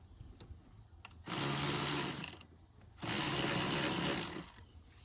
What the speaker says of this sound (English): We'll get our 13 millimeter socket. We'll snug that back up.